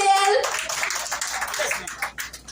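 An audience at a May fair applauds: quick, dense clapping from a crowd that follows a brief held tone at the start, with voices mixed faintly underneath.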